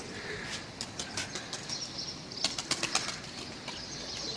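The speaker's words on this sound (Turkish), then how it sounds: "kuşlar inmek üzere" Repeated bursts of wing flapping from several young pigeons landing, fluttering in quick uneven flurries with a louder cluster near the end, against faint outdoor background noise.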